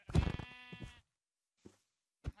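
Minecraft sheep give one clear, wavering bleat up close, then two short, faint sounds follow after a silent pause.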